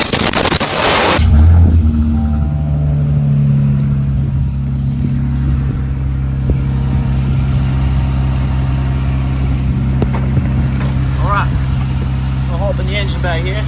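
A Ram 1500 truck engine fires up with a loud burst, then idles with a steady low rumble up close while someone talks over it.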